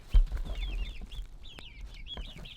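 Little chicks make soft, high cheeping calls in quick repeated bursts, fairly faint against low background rumble on a farm.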